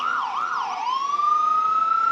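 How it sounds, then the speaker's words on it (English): Fire apparatus siren at a Flag Day parade in Appleton: a wailing electronic siren sweeps up and down, then settles into a sustained high steady tone, loud and close. "I'll say those sirens and horns are as impressive as the machinery itself"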